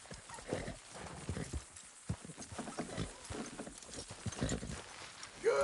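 Horses walk while pulling a load, hooves clip-clopping in an irregular, faint rhythm outdoors with low rumbling and shuffling, a brief voice rising at the very end.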